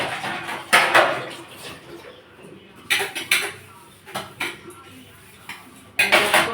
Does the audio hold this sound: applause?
no